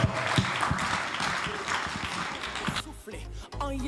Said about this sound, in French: on applaudit le Seigneur pour sa parole.